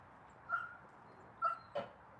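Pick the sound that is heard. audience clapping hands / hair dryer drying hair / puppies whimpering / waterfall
puppies whimpering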